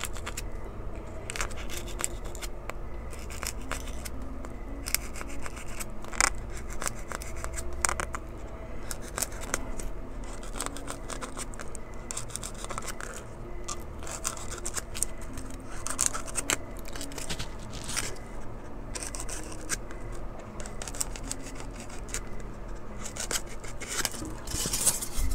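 A tool engraving lines into styrofoam for a model tunnel portal, a close, dry scratching and rasping that repeats in irregular short strokes, with no speech.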